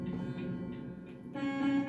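A stock truck air horn in Euro Truck Simulator 2 blares in a steady harmonic tone, then swells louder toward the end, with engine rumble underneath.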